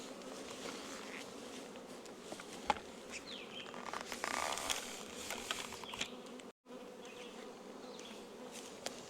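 A dense, continuous hum of many honey bees buzzing close by around a hive, with individual insects droning past, steady throughout apart from one brief dropout.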